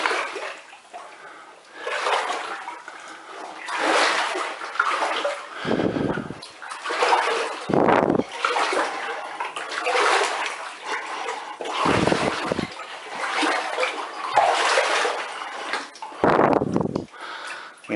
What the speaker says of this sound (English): I just don't want to kick the water up too much